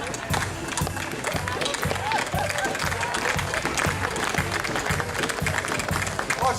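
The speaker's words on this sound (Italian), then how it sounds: "Forza ancora un grosso applauso" An audience at an outdoor threshing festival claps loudly and continuously in dense, even applause, with voices mixed into the crowd.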